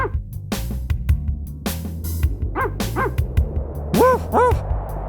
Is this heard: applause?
no